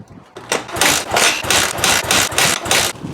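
Kick-starting attempts on a KTM 450 EXC motorcycle after six years sitting with carburetor trouble: a series of rhythmic chugging engine turnovers, about six pulses in three seconds, close and loud without catching.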